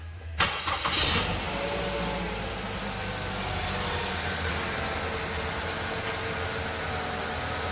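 A freshly installed Mazda L3 car engine cranks briefly on its first startup, catches, and settles into a steady idle that continues to the end.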